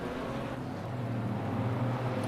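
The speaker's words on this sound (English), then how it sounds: "Makes a lovely sound, that car." Ginetta GT4 race car in a racing video game at Zandvoort, its engine a steady, continuous drone with low harmonic tones held throughout, fairly loud and alone.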